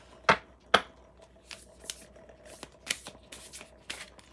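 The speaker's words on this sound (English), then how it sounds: "I'll pull one from this and then one from the Modern Goddess Oracle too." Oracle cards riffled and shuffled by hand, two sharp crisp bursts followed by softer scattered flicks and taps, close and quiet with no talking.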